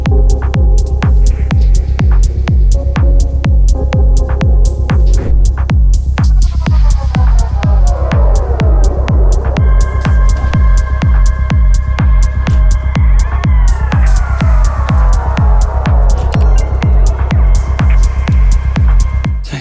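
A continuous ambient synth soundscape made from combined modular-style effects: a loud, relentless rhythmic pulse beneath shifting sustained tones and gliding pitch sweeps that rise and fall over the whole stretch.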